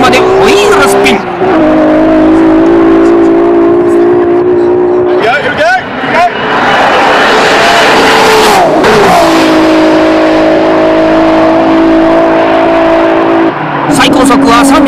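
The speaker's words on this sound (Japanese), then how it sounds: "5速までホイールスピン。" Toyota Supra street car of nearly 900 horsepower accelerating hard with wheelspin through to fifth gear, its engine rising in loud sustained pulls, easing between gears, and recorded close with wind roar; talk is heard over it.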